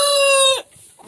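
A rooster in a farm coop housing several mature roosters gives one loud, close crow with a long harmonic call that breaks off sharply, followed by a short, quieter cluck.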